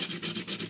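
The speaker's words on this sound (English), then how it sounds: "I'm scratching off a scratch off." A lottery scratch-off ticket being scratched with quick, rhythmic rubbing strokes, about five short scraping passes in under a second, close and fairly quiet.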